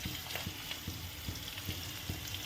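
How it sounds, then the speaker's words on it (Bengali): Potatoes with a little turmeric fry in oil, giving a moderate continuous sizzle punctuated by soft, regular stirring knocks. "আলুগুলো লাল লাল করে ভেজে নেব"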